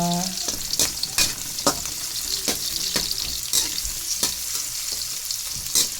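Chopped garlic fries in a pan for chicken sour soup with a steady, close sizzle, broken by repeated sharp scrapes and taps of a stirring utensil.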